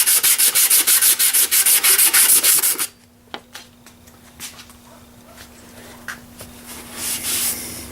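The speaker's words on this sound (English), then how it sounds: "I'd say you probably don't want to get any rougher than 100 grit maybe. Clean all sides of the pipe." Copper pipe rubbed briskly with 100-grit sandpaper, a rapid run of close, harsh scraping strokes for about three seconds, then quieter handling noises and a faint steady hum.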